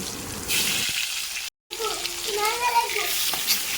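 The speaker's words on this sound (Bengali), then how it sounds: "এবার আমি ওই তেলেতেই আলুর টুকরোগুলোকেও ভেজে নিচ্ছি" Potato pieces frying in hot oil, used just before for pointed gourd, for a potato-and-gourd korma: a steady close hiss and crackle that cuts out briefly, then resumes with bubbling sizzle and faint background sounds.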